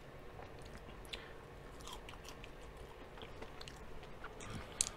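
A crunchy french fry from a buffalo chicken and cheesesteak spot, bitten and chewed close to the mic, with repeated soft crisp crunches over steady low background noise and no talking.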